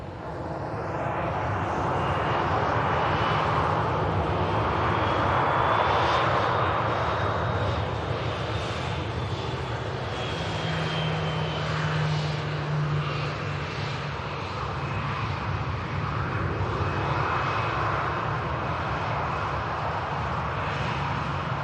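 Ryanair airliner bound for Barcelona rotating and climbing out of Manchester Airport, a loud steady engine roar with a slowly shifting whine that holds for the whole stretch.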